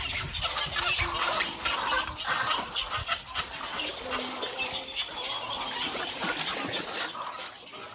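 Nesting colony of herons, egrets, anhinga and neotropical cormorants at a pond, a dense, continuous chorus of overlapping squawks, croaks and clucking calls, steady and fairly close, with no talking.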